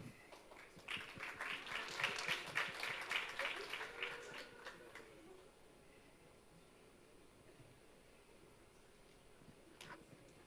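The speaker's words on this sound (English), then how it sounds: "please give yourselves a round of applause" Audience applause at a health innovation pitch competition, a dense burst of clapping for about five seconds that then thins out, leaving quiet room noise and one faint late clap.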